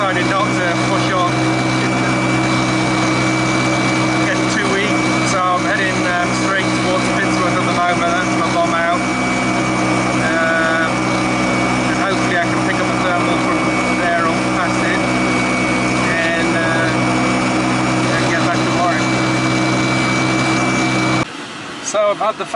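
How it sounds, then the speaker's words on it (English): A glider's front electric sustainer motor runs in flight, a loud steady droning hum with a constant whine that holds almost unchanged throughout before cutting off abruptly near the end. "So I switched on the motor."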